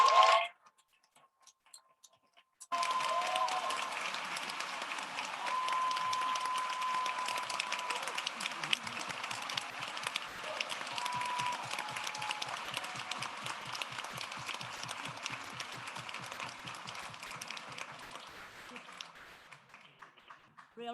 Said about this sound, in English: Please stand and be recognized and receive the well-deserved applause from all of us.